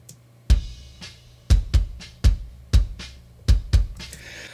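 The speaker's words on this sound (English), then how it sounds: "I put a Pultec EQ on the bass drum" A deep, round bass drum boosted with a Pultec EQ beats in a loose pattern of single and double hits, each thump boomy with a long low-end tail, played alone.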